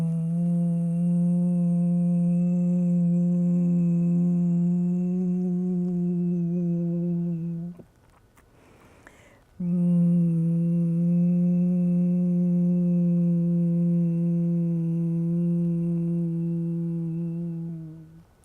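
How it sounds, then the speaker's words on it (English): Long, steady voiced humming exhalation from bhramari-style yoga breathing, rich and tonal, held for about eight seconds, then a short breathy inhale, then a second equally long hum fading at the end; no talking. "You're going to inhale deeply and exhale into a humming sound."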